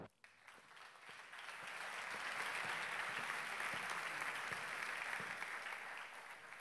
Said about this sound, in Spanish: Reciban con un fuerte aplauso a Ángel Fernández